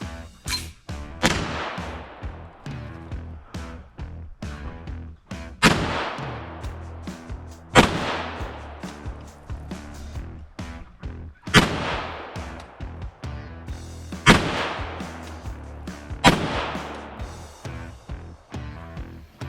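Gunfire from several calibers aimed at a cast iron Peerless 2300 transmission, with about a dozen loud outdoor cracks at irregular intervals, each followed by a rolling echo and decay.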